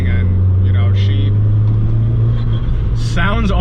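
A modified Fiat 500 Abarth with a big turbo runs with a steady, fairly subdued low exhaust drone, close by, while someone talks over it throughout.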